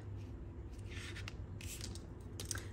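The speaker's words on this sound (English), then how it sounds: "And then snip, snip" Scissors snipping through ribbon for a papercraft bow, a few quiet, close crisp cuts heard alone in a hushed room.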